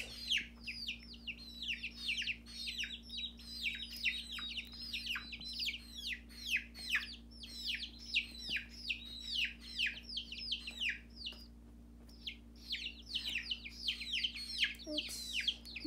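Young chicks peep and chirp in rapid, overlapping bursts, close and steady throughout, with a low constant hum beneath them.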